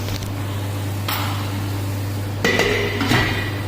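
A lid set onto a pot of potato and green pea curry gives a couple of sharp metallic clanks and clinks over a steady low hum and faint sizzle, close and fairly loud.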